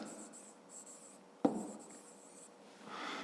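A pen writes out a math expression for a fifth-grade exercise, soft scratchy strokes in short bursts with one sharp tap midway, quiet and close.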